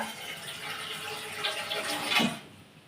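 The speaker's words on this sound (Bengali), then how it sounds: "আমি জলটা দিলাম" Water pours into a cooking pot of lentils and vegetables for sambar, a steady splashing stream lasting a couple of seconds before tapering off.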